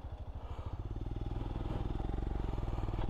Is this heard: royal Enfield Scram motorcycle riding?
yes